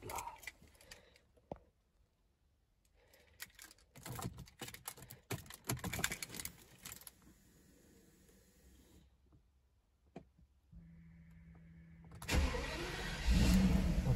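Mercedes car engine starting, with a short run of clicks and whirring cranking before the engine settles into a steady low idle, followed by a louder rush of noise near the end.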